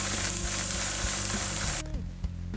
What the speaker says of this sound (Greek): Πάντα ξεκινάμε το γυάλισμα φορώντας τη μάσκα μας. Χρησιμοποιώ γυαλόχαρτο 180